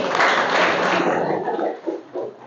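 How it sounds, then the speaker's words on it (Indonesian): A classroom of children claps together in a short, loud burst that thins out toward the end, leaving a few scattered claps. "Beri tepuk tangan sekali lagi"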